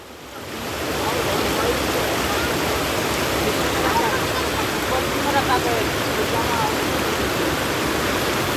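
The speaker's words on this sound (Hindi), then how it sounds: "ये नदी बहुत ज़्यादा तेज चल रही है" A fast, swollen river rushes loudly and continuously, a dense broadband roar like surf that rises in the first second and then holds steady without pause.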